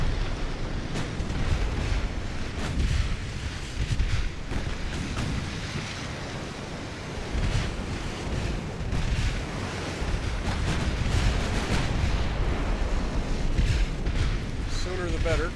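Heavy warship guns boom repeatedly in the naval video game Ultimate Admiral Dreadnoughts, with rumbling blasts and a sea-like wash running throughout, while a voice talks over the battle.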